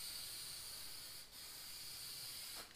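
Aerosol spray paint can hissing steadily and close up while coating a homemade concrete-filled counterweight for a Kubota B2601 tractor, with a brief pause near the middle and a short break at the end.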